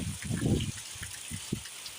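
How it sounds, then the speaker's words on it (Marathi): Heavy Konkan monsoon rain driven by strong wind splashes water indoors, with loud irregular watery bursts and gushes, strongest at first and then in shorter splashes. "आणि मित्रांनो जोरदार पाऊस आहे"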